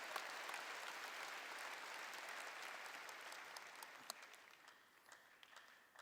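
Congregation applauding in a church during a sermon, a steady, fairly distant wash of many hands clapping that thins slightly toward the end.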